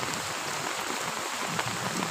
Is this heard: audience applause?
no